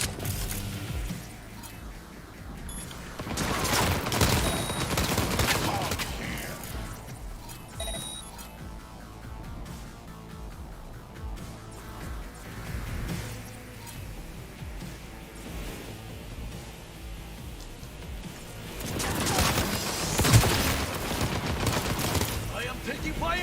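Gunfire erupts in Cyberpunk 2077, with rapid volleys of shots in a few bursts, heaviest near the start and end, mixed with game sounds and speech.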